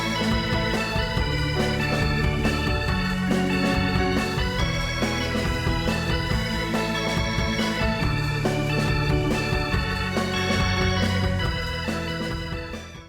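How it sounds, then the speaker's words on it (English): An organ sound font plays a solo over a full song backing, a sustained dense chordal and melodic texture running continuously for several seconds before fading at the end, with no voices. "So the organ solo would sound something like this in the song."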